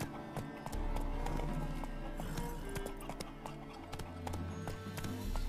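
Hooves of Roach, the horse in The Witcher 3, pound in a steady galloping clip-clop throughout, with a brief whinny and game music and ambience behind.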